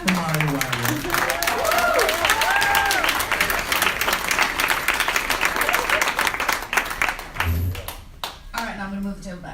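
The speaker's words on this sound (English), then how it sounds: "So let me give a round of applause for Mary Weigel." Audience at a 2018 poetry jam breaks into loud, dense applause that swells and holds for several seconds, with whoops and voices mixed in before the clapping thins out and talk resumes.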